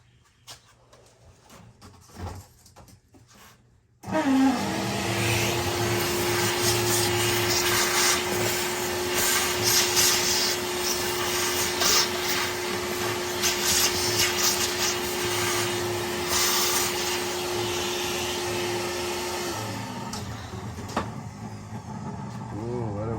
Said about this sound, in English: Shop vac sounds like it's seen its better days